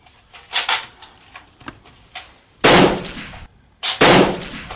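Soldiers firing guns in a 1944 Arnhem battle scene: scattered lighter pops and knocks, then two loud, roaring blasts close by, each ringing out for nearly a second.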